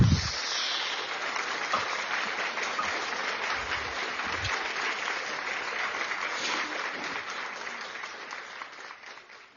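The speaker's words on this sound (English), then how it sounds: "We're going to give you what? A round of applause, okay?" A room full of people applauds on a talk show, dense steady clapping that carries on without a break and slowly fades toward the end, with no one speaking over it.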